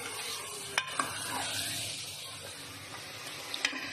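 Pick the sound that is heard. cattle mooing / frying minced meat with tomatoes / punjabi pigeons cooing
frying minced meat with tomatoes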